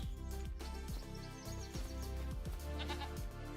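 Sheep bleating in the farming game Farming Simulator 25, set against steady background game music with rhythmic low thumps, the bleats repeating through the short stretch.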